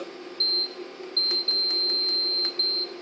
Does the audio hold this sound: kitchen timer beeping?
yes